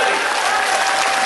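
A crowd at an outdoor poetry recital at the Red Fort bursts into loud, dense applause, with continuous clapping filling the space without pause, close and strong.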